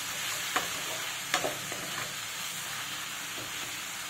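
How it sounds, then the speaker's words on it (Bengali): Diced potatoes fry in a pan of oil, a soft continuous sizzle with a few faint clinks of stirring. "ডুমডুম করে আলু কেটে ওটা ভেজে নেবো"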